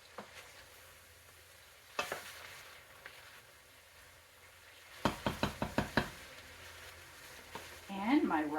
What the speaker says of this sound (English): Now I'm stirring my cabbage and sausage mix.